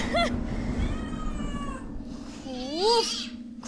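A cat meows several times, close and clear, with drawn-out rising and falling calls over a steady indoor hum, and a person speaks briefly in between.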